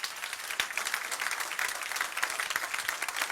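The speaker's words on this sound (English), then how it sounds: "Give him a round of applause" Applause from an audience filling the room, steady dense clapping throughout at moderate loudness with no talk over it.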